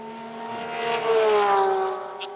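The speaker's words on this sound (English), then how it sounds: "That's a screamer, that Porsche engine." A Porsche flat-six race car engine howls past at a distance during pre-qualifying at Kyalami, its high-pitched whine rising then falling away as it goes by.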